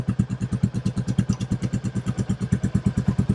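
Royal Enfield Classic 350 running with a cat-delete exhaust pipe, a close, loud, rhythmic single-cylinder thump at a steady idle, each pulse evenly spaced throughout.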